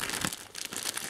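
Cardboard box of a USB 3.0 HDD enclosure being opened, a close, short burst of crinkling and tearing cardboard lasting about a second, with no talking.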